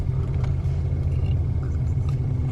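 A Crown Victoria on 28-inch wheels is backed slowly into a garage. Its engine gives a steady, loud, low rumble at close range, with no talking.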